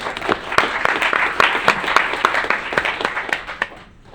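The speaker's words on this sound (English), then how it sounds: "Y'all can clap now." Audience clapping at a city council meeting after a proclamation is signed, a dense burst of many hands applauding close and loud, tapering off near the end, with no talk over it.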